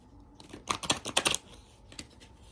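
Oracle cards are shuffled by hand in a few quick crisp riffles, a brief cluster of papery flicks and taps followed by a single later snap, close and clear against a quiet room.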